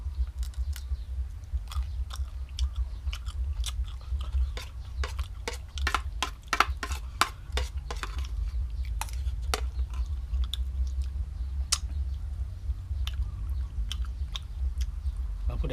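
Crispy fried fermented sour fish eaten with garlic-chili fish sauce gets chewed up close, a run of sharp crunchy bites and steady mastication sounds with no talk over them.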